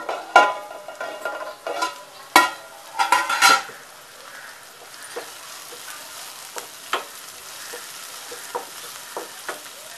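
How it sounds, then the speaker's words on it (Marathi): Onions sizzling and steaming in a pan for an Agri-style egg bhaji, with clear stirring and scraping clatter of a spoon against the pan in the first few seconds, then a softer, steady hiss punctuated by occasional light taps. "हा कांदा मऊ पडेस तर थोडासा वाफवून घेऊया"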